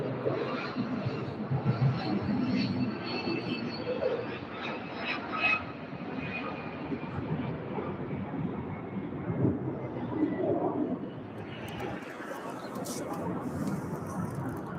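A big cargo jet rumbles in on approach to UPS Worldport in Louisville, a broad, steady engine roar that holds for the whole span, with someone talking over it.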